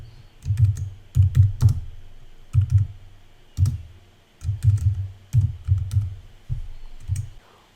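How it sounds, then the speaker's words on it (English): Keys clack on a computer keyboard as a shortcut is entered in a drafting program: irregular clusters of sharp, close taps with short pauses between bursts, and no talking. "This time I'm going to use a keyboard shortcut."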